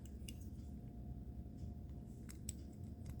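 Scissors on a cheap EDC multi-tool cutting, several faint crisp snips at irregular intervals over a low background hum.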